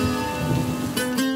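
Rain falls at a youth travel-ball baseball tournament in Miami as a steady, dense hiss that swells into brief louder gusts near the end.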